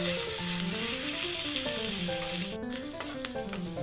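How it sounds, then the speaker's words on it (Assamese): Masala spices fry in a pan over a low gas flame, giving a continuous crackling sizzle with no talk over it. "মই মছলাখিনি ভাজিবৰ কাৰণে গেছটো চিমত দি লৈছোঁ"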